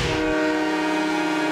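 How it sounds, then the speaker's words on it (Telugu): A cartoon train blares a loud, sustained horn, a rich harmonic tone holding steady for over a second, over a low rumble of the train passing. "వాళ్ళు ట్రైన్ లో వస్తున్నారు."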